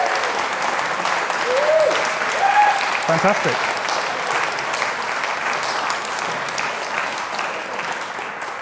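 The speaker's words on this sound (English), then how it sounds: "Another round of applause to Lucy Lightfoot." Applause at a community awards ceremony fills the room, a steady broadband wash of many hands clapping throughout, with a presenter's voice briefly speaking over it near the start.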